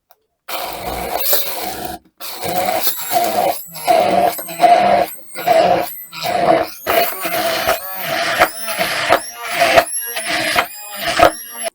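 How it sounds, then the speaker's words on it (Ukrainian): A blender whirs in repeated short bursts with brief pauses between them, loud and close, its motor pitch wavering as it churns a thick sauce for a tomato and burrata sandwich. "І знову перебиваю блендером."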